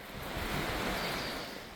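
A mountain valley stream in Seoraksan rushes along in a steady, broad wash of flowing water. The sound is continuous, moderately loud and heard alone.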